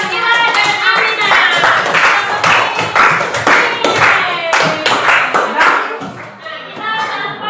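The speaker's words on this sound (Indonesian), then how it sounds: "tepuk tangan untuk Ira dan Aminah." A classroom group claps together in a lesson, dense overlapping hand claps with a steady uneven rhythm filling the whole stretch, loud and close, with children's voices mixed in.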